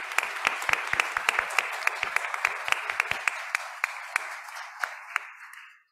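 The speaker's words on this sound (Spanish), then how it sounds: "Aplauso para Matt." Applause in a church congregation for a guest homilist: many hands clapping at once, brisk and fairly close at first, then thinning and fading out toward the end.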